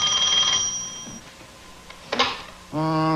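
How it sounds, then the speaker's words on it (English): A telephone rings in short tonal bursts, alone with no talk over it, with a brief clatter between rings. "the word is telephone, and it's ringing"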